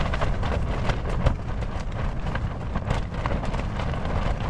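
Steady wind on Dartmoor roars and buffets against the microphone at a wild camp, a continuous low rumble with no voices.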